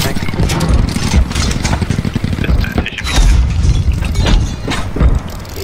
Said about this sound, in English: Firing on the tank.